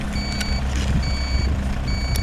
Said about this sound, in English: we gotta back the tow truck up here